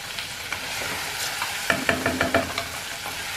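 Garlic frying in a pan with a steady sizzle, joined by a few clinks and scrapes of stirring, close and fairly loud with no talking.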